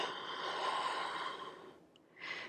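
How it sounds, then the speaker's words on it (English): A slow, steady breath out through the mouth during an energy-healing exercise, a soft airy rush that fades, followed by a brief second exhale. "And then as you're breathing out through the mouth,"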